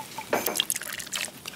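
Christmas mulled wine (glögg) is poured into a kitchen pot, a short, quiet trickle and splash with a few drips, close by and without talk.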